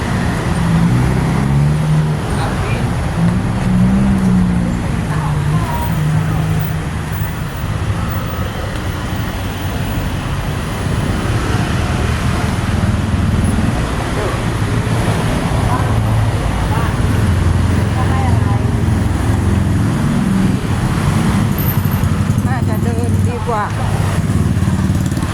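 Heavy traffic crawls at Ha Yaek Lat Phrao in Bangkok. Motorcycles, cars and buses make a loud, dense roar that keeps going, while a voice talks over it.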